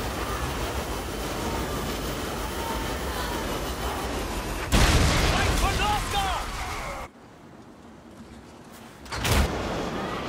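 A Hell Cannon's artillery shot in a strategy video game, with a sudden loud boom that fades into rumbling battle noise over continuous game sounds, then a second thump later, while someone talks throughout.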